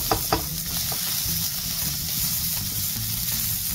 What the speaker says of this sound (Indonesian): Lalu tumis bawang dan cabai yang tadi disisihkan.